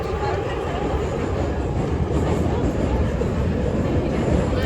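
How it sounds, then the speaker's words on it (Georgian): A metro train riding underground makes a loud, continuous rumble and roar of wheels and carriage noise that fills the whole stretch without letting up. "მე მეტროში ვარ."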